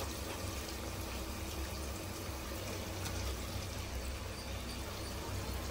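Fresh mutton goes into a pot of softened tomatoes for mutton pulao, producing a continuous wet hiss and bubbling that stays dense and steady throughout.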